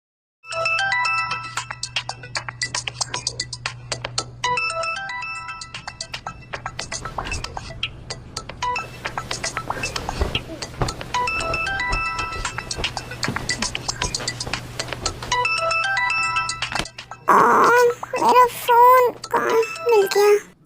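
A melodic phone ringtone repeats in short bursts over a low hum, interrupted by someone speaking, then a brighter ringing passage near the end.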